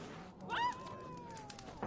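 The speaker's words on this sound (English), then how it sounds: "I don't think I noticed the cat last time." A cat meows once in The Witcher 3 video game, a single faint, drawn-out meow over quiet ambient game sound.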